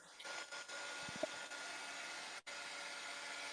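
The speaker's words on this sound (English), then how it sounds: "I can hear your dryer though." A clothes dryer runs with a constant, even whirring hum that fills the background. A few soft knocks sound near the start.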